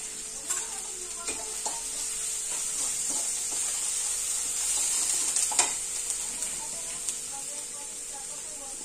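Curry leaves hiss and sizzle in hot oil in a pan for a ridge gourd and chana dal dish, a steady bright crackle with occasional scraping taps of a spoon as they are stirred.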